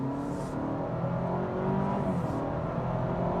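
A 2025 Honda Civic Sport Hybrid pulls away at about half throttle in econ mode, its engine note rising softly in a smooth, fairly quiet whir heard from inside the car, with no talk.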